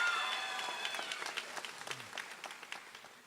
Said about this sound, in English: So hold your applause until we're done.